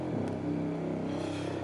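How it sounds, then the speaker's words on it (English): A thick, detuned Reese bass synth drones low and loud, with a wobbling, phasing, growly tone that slides slightly early on and then holds steadily, alone without talk. "Reese bass sounds like this."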